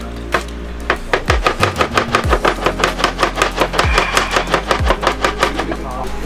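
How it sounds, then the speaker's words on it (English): Garlic is chopped with a knife on a board at a camping cookout, rapid steady taps repeating close and crisp for several seconds, with a low engine-like hum and occasional thumps underneath. "So first we'll chop up the garlic."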